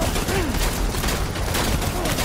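Gunshots in a Death Stranding war zone in the trenches, where a shotgun is in play: a dense, steady barrage of firing and booms throughout, with a voice underneath.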